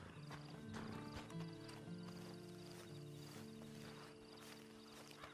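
A horse clip-clops steadily in the video game Red Dead, its hooves striking in an even walking rhythm beneath soft background music, faint and without speech.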